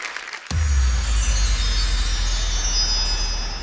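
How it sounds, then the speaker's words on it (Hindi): Loud audience applause and cheering bursts in abruptly after a brief quiet moment and holds steady as a dense wash of sound for a TV dance competition show, following a dancer's performance on Super Dancer 4. "एक बार जोरदार तालियां अर्शिया रानू के लिए"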